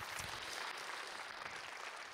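A church audience applauds in thanks, a dense, steady wash of clapping from many hands filling the whole short stretch with no voices over it.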